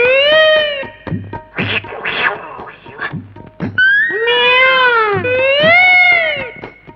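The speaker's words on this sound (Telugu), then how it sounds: "పిల్లి నాన్న, గుండు పిల్లి." A tomcat meows loudly and repeatedly up close, with long, wailing, drawn-out cries and a few shorter calls in an indoor scene from a Telugu family drama film.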